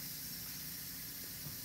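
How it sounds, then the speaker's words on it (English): Steam vents from an Instant Pot pressure cooker in a kitchen as a loud, steady hiss that holds without a break. "So the steam is being released. The steam is being released now."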